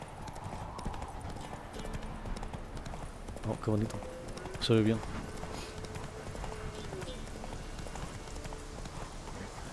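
Horse hooves clip-clop in The Witcher 3, a few distinct loud hoofbeats around the middle over a steady game ambience, with someone talking casually throughout.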